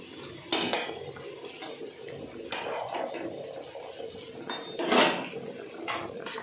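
A plate is set over a pan of soybean and potato curry, giving a few sharp ceramic-on-metal clinks and clatters spaced over several seconds, the loudest near the end, above a low kitchen background.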